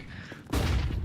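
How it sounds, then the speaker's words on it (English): A flashbang grenade detonates in a Counter-Strike pro league match, a sudden loud burst that cuts in halfway and stays as a sustained roaring wash of noise after a quieter lead-in. "Nice flashbang still."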